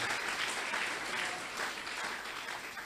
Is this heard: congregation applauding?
yes